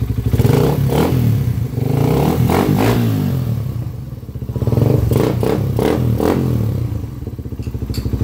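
Suzuki Raider 150 carburetor motorcycle with a freshly repaired engine running close by, a steady loud chugging with a few blips of revving and clattering mechanical noise.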